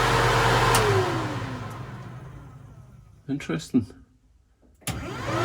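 A budget DIY heater system in a 1936 Chevy Coupe hot rod powers on with a loud rushing whir that gradually fades and softens. A short burst of talk follows, then a thump.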